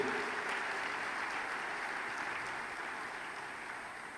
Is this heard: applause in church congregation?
yes